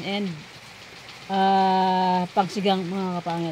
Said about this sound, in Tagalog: Kaninang umaga pa umuulan dito.